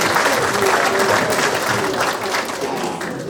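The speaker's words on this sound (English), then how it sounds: "So give yourselves a round of applause." Steady, dense applause from an audience at a Florida BMX Hall of Fame ceremony, loud and continuous throughout with a faint murmur of voices underneath.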